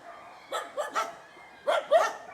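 Several dogs bark at an animal shelter, with short yapping barks in two clusters, moderately close and fairly quiet, over a low background.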